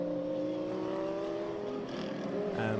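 GT endurance race cars, a blue and white Porsche among them, roaring past at the Navarra circuit, steady high engine drone with shifting pitch and a rise as another car approaches at the end.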